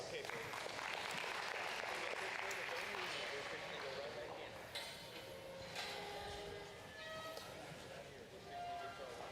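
Audience at a county fair and rodeo heifer showmanship class claps in a dense burst of applause that fades, followed by voices talking over the arena's background noise.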